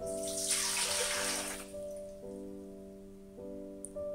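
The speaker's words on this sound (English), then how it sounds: "I start by adding my water." Warm water, about 90 to 95 degrees, is poured into a mixing bowl for puff puff dough, a brief splashing pour at the start that fades as a steady tonal hum continues underneath.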